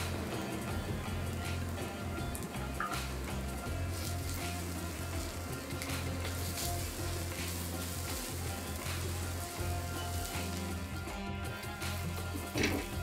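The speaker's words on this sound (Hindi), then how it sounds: "चलो हमारा अदरक लहसुन भी फ्राई हो गया" Chopped ginger and garlic frying with onions on a hot tawa, giving a steady, dense sizzle that runs throughout with a low hum beneath, moderately loud and close, with no talking.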